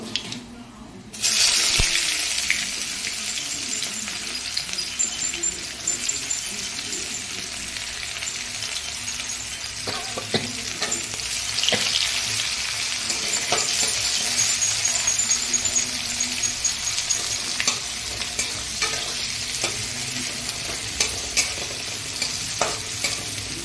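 Chopped onions fry in hot oil while being stirred, a continuous loud sizzle with scraping and clinks of the spatula against the pan, running alone throughout.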